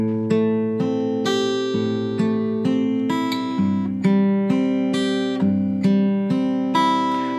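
An acoustic guitar is finger-picked through a song, with arpeggiated notes ringing over a descending bass line in a clear, close, even rhythm.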